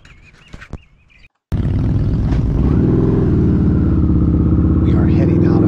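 A Victory Hammer motorcycle pulls out with a loud, close engine rumble that kicks in after a few soft sounds and a brief silence, then climbs steadily in pitch as it accelerates away.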